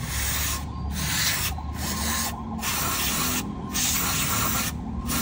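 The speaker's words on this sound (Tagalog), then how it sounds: "So, spray natin." An aerosol spray can being sprayed onto a leaking bulb cover gives a steady loud hiss in repeated bursts, about five or six sprays with brief pauses between them, close by and without talk.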